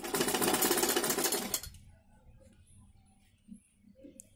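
A sewing machine stitches the sleeve pieces of a kurti, running in a fast, steady, loud rattle for about a second and a half before it stops, leaving quiet fabric handling and small clicks.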